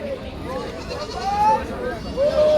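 Goats bleat at a village goat and sheep market in Kaitla, Mirzapur, Tangail. Two or three wavering cries rise over a steady murmur of nearby people talking.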